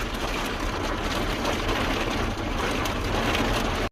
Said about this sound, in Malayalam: ശക്തിയായ മഴയാണ്.